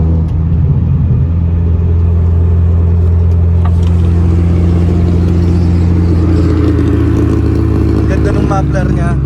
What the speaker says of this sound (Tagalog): Ganda ng muffler niya